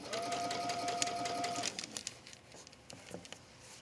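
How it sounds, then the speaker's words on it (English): Sewing machine stitching through cork fabric for a decorative holiday pillow, a steady close whirring hum for about a second and a half that stops, followed by faint handling and rustling noises. "depending on what kind of sewing machine you have, you might have a setting where you can just make it stitch a little bit slower"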